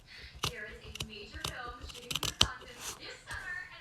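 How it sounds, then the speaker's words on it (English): Scissors trimming the fabric seam of a sewn face mask, several close crisp snips and clicks in an uneven rhythm, with a voice talking faintly in between. "I'm going to take my scissors and I'm going to trim"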